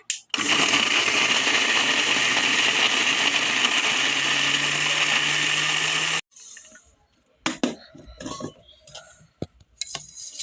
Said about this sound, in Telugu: ఇప్పుడైతే మిక్సీ పడుతున్నా